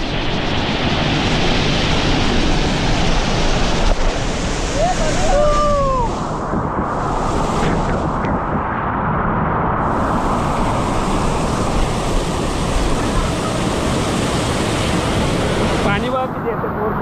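Water rushes loudly and continuously at a village waterfall, a dense broadband roar that holds steady throughout with no voices.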